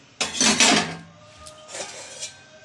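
A metal lid clatters onto a cooking pot with a short scraping clink, then a softer settling rattle, close by in a home kitchen where country chicken curry with new potatoes simmers on a gas stove.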